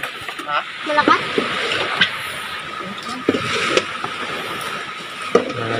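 Water splashes and sloshes against a small boat at sea, with irregular slaps and spray rising over a steady wash while people talk nearby.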